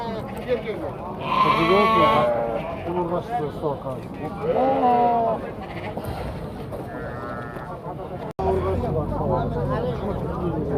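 Sheep and lambs bleat repeatedly at a livestock market, several loud close calls rising over a steady murmur of people talking and crowd noise.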